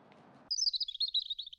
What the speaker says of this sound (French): Ce petit rouge-gorge est très attentif.